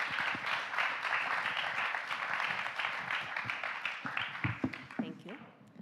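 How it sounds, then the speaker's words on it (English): Audience at the 2023 ENRICH in Africa Congress applauds a panel, a steady wash of many hands clapping that fades near the end, with some voices mixed in. "can we give a round of applause to this wonderful panel?"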